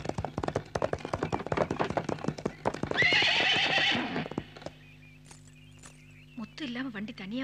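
A horse-drawn cart arrives with no driver. Hooves clip-clop in a quick, irregular patter, then the horse gives a loud whinny. Softer clopping and a few taps follow, with people talking nearby.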